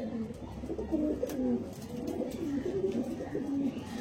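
Male pigeons coo close by in soft, repeated throaty phrases, several birds overlapping in a gentle rolling rhythm over a quiet background.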